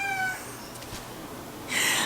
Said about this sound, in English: Oh, my cat. She's interrupting me.